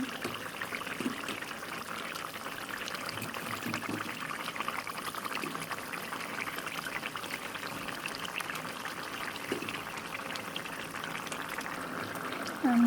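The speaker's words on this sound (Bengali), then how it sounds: "এই যে আমি তরকারিতে রসা দিয়ে নিছি" Gravy poured into a simmering fish curry makes a steady liquid trickle over soft bubbling, even and moderately quiet for the whole stretch, with no talking.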